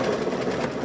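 A sewing machine stitches fabric for a stuffed bear, a steady, dense mechanical whir running without a break through the short moment.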